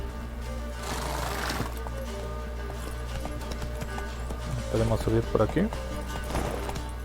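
Horse hooves clip-clop in The Witcher 3 video game, coming as a quick cluster of steps near the end under someone speaking Spanish over steady background game sound.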